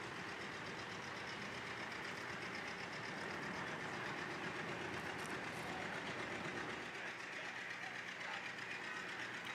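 A beautifully restored historic steam engine rolls past in an Apple Blossom Festival parade, a steady mechanical rumble and chuffing wash heard close and fairly loud throughout, with no talk over it.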